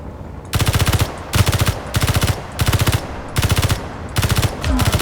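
Rapid automatic turret gunfire in the game Space Engineers, loud and close, coming in five or six sustained bursts separated by short pauses, with no talking over it.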